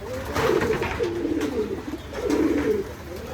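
Giribaj pigeons coo in low, rolling throaty calls, two long phrases close by over a steady background hum.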